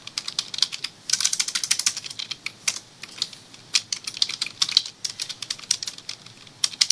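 Rapid clicking keystrokes on a computer keyboard typing a build command, close and steady with brief pauses between bursts, no voices.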